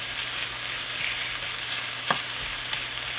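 Onion and garlic frying in a frying pan, a steady close sizzle with a couple of brief scrapes as the mixture is stirred, no voices.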